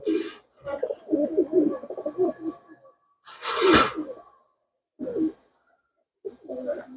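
Pigeons cooing up close, soft low throaty coos in short bursts separated by brief silences, with one louder breathy puff in the middle and no speech.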